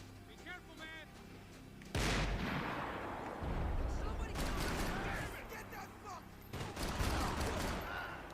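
Heavy gunfire from the video game Max Payne 3 erupts in sustained bursts and booming volleys, loud and dense, with a brief quieter stretch between bursts.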